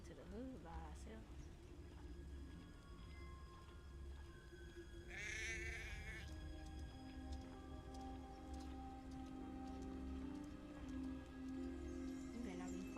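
Sheep bleating inside the video game Hogwarts Legacy, brief moderately loud calls rising over steady game music and ambient rain, with someone talking through part of it.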